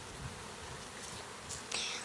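Honey bees hum and buzz in a steady, moderately faint drone during a backyard hive inspection, with a brief louder buzz near the end as one passes close.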